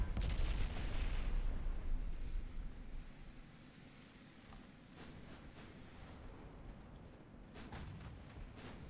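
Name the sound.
battleship gunfire in Ultimate Admiral: Dreadnoughts video game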